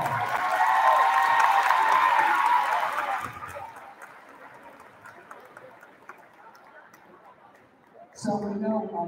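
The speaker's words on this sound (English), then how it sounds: "Let's give them a big round of applause." An audience at an eighth grade awards day clapping for the graduating class, a loud round of applause for a few seconds that fades into room murmur before a voice speaks.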